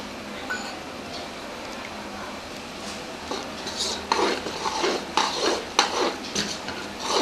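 Cashews frying in hot ghee in a pan for temple sweet pongal, with clinks and scrapes of a utensil against the pan in bursts, growing busier toward the end.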